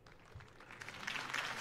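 Crowd applause from a political rally scene in the Batman Telltale video game, a broad wash of clapping that swells steadily louder over a second and a half.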